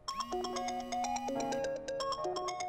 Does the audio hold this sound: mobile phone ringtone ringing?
yes